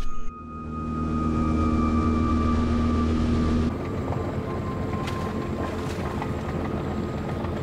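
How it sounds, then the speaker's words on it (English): Engine drone of a speedboat on a river in Borneo, a loud steady hum with tonal whine that shifts to a rougher, more broadband roar of hull and water partway through, with wind buffeting the microphone. "We're about to jump in the speedboat, get out of here, and find some orangutans."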